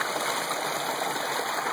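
Water pours from a small fish pond spillway feeding a micro hydro setup, a steady close rushing flow with a constant broad hiss and no voices.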